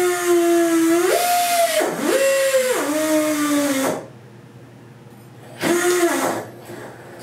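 A Tri Tool 214B Bevelmaster pipe beveling tool cuts with a tonal whine that rises and dips as the feed is eased. It drops to a low hum, then bursts out again briefly.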